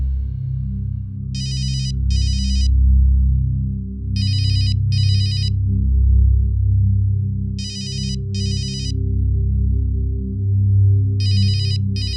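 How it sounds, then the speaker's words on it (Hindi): A mobile phone ringtone plays in four repeating bursts, each a pair of bright electronic trills separated by pauses, over a steady low room rumble. "तेरा फोन आ रहा है"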